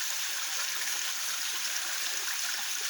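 A tall waterfall at Lapunan, Marilog, Davao City, pours as a steady, hissing rush of water, continuous and fairly faint at a distance, with no voices.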